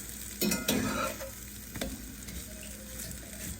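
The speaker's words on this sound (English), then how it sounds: "I think they're ready to flip" Pumpkin-stuffed French toast sizzles in a hot pan just after being flipped. A steady, close frying hiss carries a couple of sharp utensil clatters early on, with no talking.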